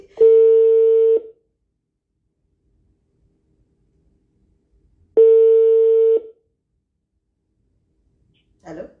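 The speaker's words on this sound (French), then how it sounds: "On va essayer de le rappeler." Two steady telephone tones, each about a second long and separated by several seconds of silence, come through a call-in radio line, followed by a brief faint voice at the end.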